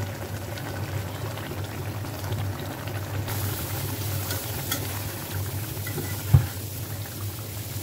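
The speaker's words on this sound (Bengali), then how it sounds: "এই তো আমি শাকটা ভাজি করি" Leafy greens fry in a pan beside a pot of cooking fish, with a loud, continuous bubbling sizzle throughout and one sharp knock near the end.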